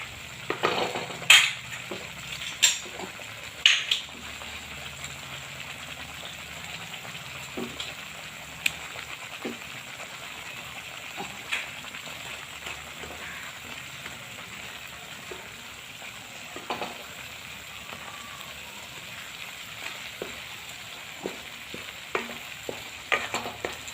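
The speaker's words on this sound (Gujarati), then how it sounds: "પનીર નાખી દઈશું હવે આપણે." Paneer cubes go into a simmering shahi paneer gravy and get stirred in the pan, a soft continuous sizzle broken by scattered spoon scrapes and light clinks against the metal.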